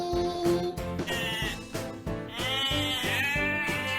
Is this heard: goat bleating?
yes